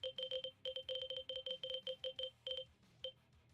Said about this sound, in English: Leave you with the dulcet tones of menu noises.